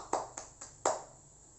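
Classroom applause for a student answering a question in a 2020 English lesson: a few quick, sharp hand claps, sparse and close, with a louder burst near the end before fading.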